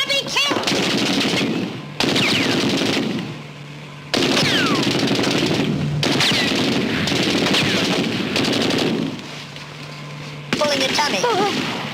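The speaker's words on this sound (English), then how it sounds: "We're at war. The enemy's firing on us. I can't hear you. Machine guns!" Machine-gun fire rattles in loud, dense bursts through an old Laurel and Hardy army comedy, broken by brief pauses, with voices shouting between and over the gunfire.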